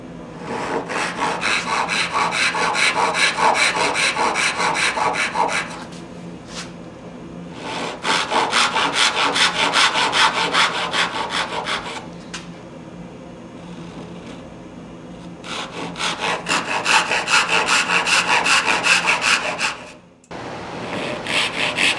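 Hand saw cutting a dovetail in curly maple, with three long spells of steady rhythmic rasping strokes close by, separated by short quiet pauses.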